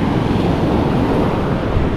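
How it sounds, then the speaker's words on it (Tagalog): Gentle sea waves wash steadily on a clear, calm shore, a continuous close surf rush mixed with wind buffeting the microphone. "Malinaw ng dagat at hindi naman nakalakihan ng alon."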